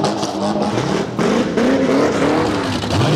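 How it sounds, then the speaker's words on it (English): A big V8 burnout car at scrutineering revs hard, its engine note rising and swelling in loud, sustained bursts close by, with a brief dip before climbing again. "Bit of a big rev."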